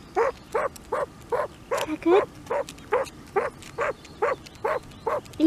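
A dog barks repeatedly in a steady rhythm, about a dozen sharp barks close by, while a person speaks briefly over them.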